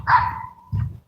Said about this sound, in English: Why y'all got y'all dogs out 6 o'clock in the damn morning?